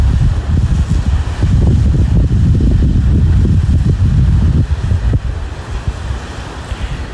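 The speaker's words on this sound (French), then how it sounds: "Écoutez les vagues." Ocean surf rolling onto a shore on a warm day, a loud continuous wash of breaking waves mixed with gusty wind rumbling on the microphone, easing slightly toward the end.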